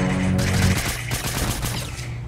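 Rapid bursts of gunfire ring out in a Fortnite match, a quick run of fairly close shots over steady game background noise, with no talking.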